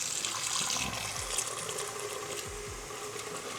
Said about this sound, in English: So we're gonna go ahead and rinse all that.